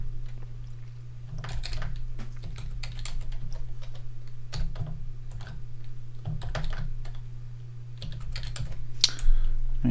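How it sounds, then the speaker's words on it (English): Someone entering a password on a computer keyboard, quick bursts of close, crisp key clicks in short irregular runs over a steady low background hum. "And go ahead and enter a password."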